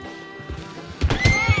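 A horse in the video game Red Dead Online neighs loudly with a rising, wavering whinny, preceded and joined by a few hoof thuds, heard up close without talking.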